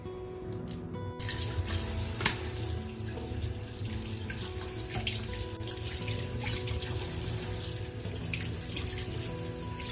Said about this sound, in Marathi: छान पैकी धुवून घ्यायची